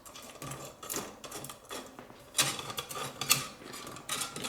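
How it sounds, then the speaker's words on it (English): Screws being hand-tightened on a robot tread section, faint irregular clicks and metallic ratcheting scrapes in a quiet room, with small clusters of louder ticks. "we'll just hand tighten some screws on these"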